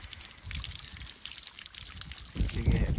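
Water from a solar-powered pump pipe, carried 400 metres uphill to the highest part of a field, trickles and splashes softly, then grows into a louder, fuller gush near the end, close by and alone.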